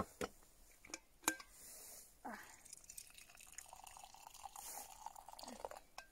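Hot water is poured into coffee for an iced coffee made with snow, heard as a faint, close trickle with a few sharp clinks and drips in a quiet room.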